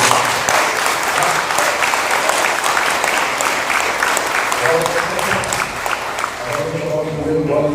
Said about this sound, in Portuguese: Você pode bater as palmas aí.